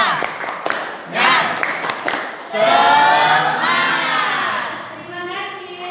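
Schoolchildren in a classroom perform a rhythmic clapping cheer, sharp patterned claps at first, then loud chanting voices shouting together over the clapping.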